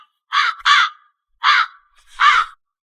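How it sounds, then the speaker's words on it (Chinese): A crow perched on a tree branch caws four times in distinct harsh calls, two close together and then two spaced apart, loud and clear against silence. "那根树枝上的乌鸦，翅膀少了一片毛。"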